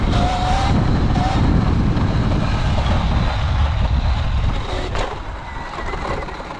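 A motorbike engine drones loud and close as the throttle stays open on its own. The roar is broad and steady for most of the stretch, with wind rush behind it, and eases slightly near the end.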